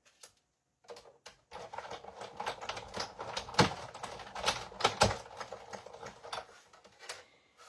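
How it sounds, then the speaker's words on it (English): Die cutting machine feeding layered paper and card through its rollers, giving a dense run of rapid clattering, ticking mechanical sounds with sharp louder clacks, close and steady, with no voices. "I'm going to run this one first in the die cutting machine."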